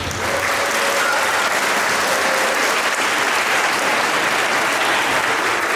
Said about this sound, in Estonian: Ja ka see vanusaste lihtsalt nõuab suurt aplausi,